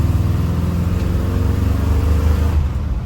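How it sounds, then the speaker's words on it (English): A deep, throaty V8 engine of a 1955 Chevrolet Bel Air with headers and dual exhaust rumbles steadily and loudly up close, a thick low exhaust burble running without a break. "to give it a better sound, you have headers with a dual exhaust system"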